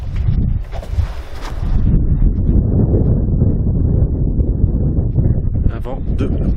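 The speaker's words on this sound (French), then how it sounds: "Un vent de malade. Et en plus, le vent, il est vraiment trop glacial." Strong, icy outdoor wind roaring and buffeting the microphone in a constant low rumble throughout, with a voice talking underneath.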